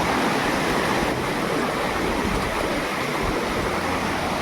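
A large forest waterfall pours in a steady, dense roar, loud and close, with no voices over the continuous rush of water.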